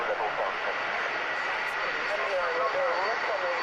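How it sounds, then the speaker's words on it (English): A Handley Page Victor jet bomber's engines roar steadily and loudly throughout, a broad continuous rush with a slowly shifting whine, heard alone without talk. "What an aircraft."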